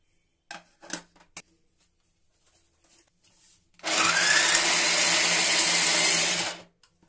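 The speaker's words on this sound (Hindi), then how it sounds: "जो हमने ये वेजिटेबल काट कर रखी थी इसको हम चॉपर में डालकर छोटा छोटा चॉप कर लेंगे" An electric chopper whirs loudly and steadily for about three seconds, chopping cut vegetables for a quick vegetable kadhi, preceded by a few brief clicks and knocks as it is set up.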